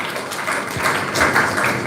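Audience applause at a motivational career talk in Goa, a steady wash of many hands clapping together, moderately loud and continuous for the short stretch without speech over it.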